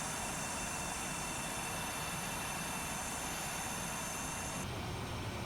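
A T-7A Red Hawk jet taxis in Microsoft Flight Simulator, its engine giving a steady, loud whine and rumble that holds constant throughout, with a high tone cutting out near the end and no talking.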